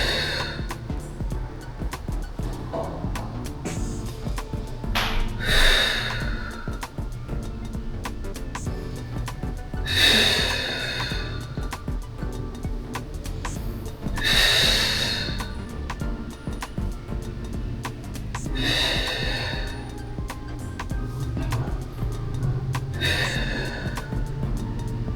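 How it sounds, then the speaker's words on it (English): Deep breathing during a Pilates core workout, with about five loud breathy inhales and exhales repeating every four to five seconds close to the microphone over a steady background hum. "deep breath in,"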